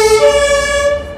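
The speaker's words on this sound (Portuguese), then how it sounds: "Impressionante como tem sirene aqui em Berlim. Polícia, ambulância, bombeiro o tempo todo." Emergency vehicle siren on a Berlin street, a loud, close wailing tone that slides upward briefly, heard alone with no talking.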